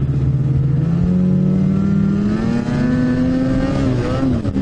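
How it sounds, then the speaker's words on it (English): A snowmobile engine on an old sled revs steadily higher with a rising, buzzy whine until it holds at the rev limiter, loud and close throughout. "There, I just hit rev limit."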